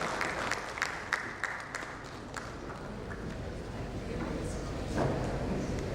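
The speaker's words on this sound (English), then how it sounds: "A big round of applause for Priya for wonderfully moderating the panel session" An audience at an insurance-industry panel event applauds the panel moderator with scattered claps that merge into a steady wash of applause, heard from a little distance.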